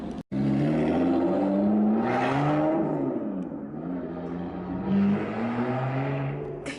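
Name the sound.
Lotus Evora car being reversed down a ramp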